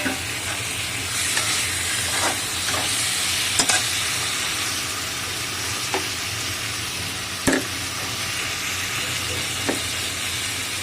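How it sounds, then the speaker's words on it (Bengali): Tomato pieces frying in oil and cooked-down spice paste, a steady close sizzle and hiss with occasional scraping stirs of the spoon through the pan, no voices. "মশলাটা কষে নিয়েছি, তেল একদিকে মশলা একদিকে হয়ে যাচ্ছে দেখুন। এটা আমি টমেটোর কাটাগুলো দিয়ে দিচ্ছি।"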